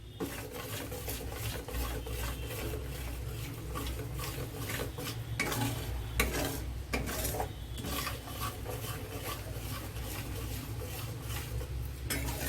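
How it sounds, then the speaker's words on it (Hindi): Bajra flour being roasted in a pan over a medium-low flame, with steady soft scraping and stirring and occasional utensil clinks against the pan, continuous and fairly quiet throughout. "अपन को या को मीडियम स्लो फ्लेम पर भूनने को है"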